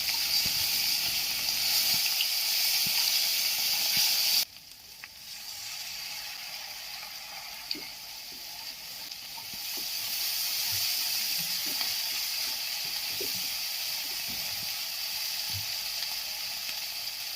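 Chili and spices sautéing in a pan for a koi fish curry with yogurt, giving a steady, loud sizzle that drops sharply, then settles into a softer frying hiss with faint stirring clicks.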